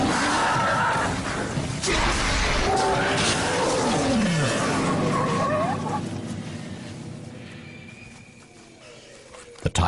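A tiger roars loudly and close, one long rumbling, sweeping roar that fades out over several seconds against a dense wild soundscape.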